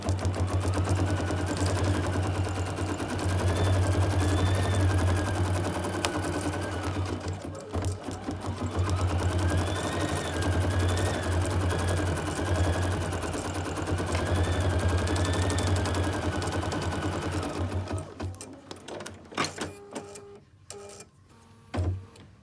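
A sewing machine runs loud and close in two long steady stitching bursts with a whirring motor hum, then stops, followed by scattered clicks and handling noises.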